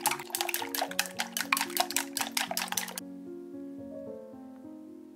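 Eggs beaten vigorously for a Japanese tamagoyaki omelette: about three seconds of fast, rhythmic clacking and whisking in a bowl over soft background music, then the music continues alone.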